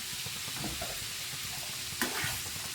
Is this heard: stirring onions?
yes